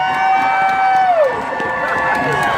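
A large crowd at a Women's March rally in Santa Fe cheers and shouts loudly and continuously, a dense roar of voices and whoops with a fading tone sliding down in the middle.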